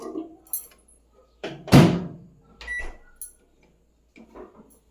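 A microwave oven used to dry leaves and stems: a door thunk, a loud latch or slam, and scattered clicks and bumps, with a low steady hum running underneath.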